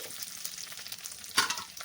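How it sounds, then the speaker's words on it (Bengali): Ginger and cumin paste frying in a pan for a vegetarian curry, a soft steady sizzle close by with one brief louder stir partway through. "মশলাটাকে খুব ভালো করে ভাজা ভাজা করে নিয়েছি"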